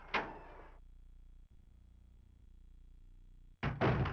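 A door opening in Resident Evil 2: a sharp creaking scrape, then a long low droning hum of the door transition, ending with another burst of heavy creak and thud.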